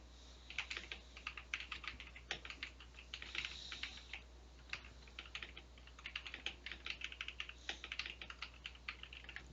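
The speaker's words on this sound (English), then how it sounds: "I love how loud my keyboard is. Clickety click click click click click." Rapid, clacky computer keyboard typing in uneven bursts of keystrokes, close and crisp, with no talking.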